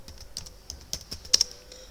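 Keys tapped on a computer keyboard while entering a date into an Access query, a quiet, uneven run of light clicks with a couple of sharper strikes near the end.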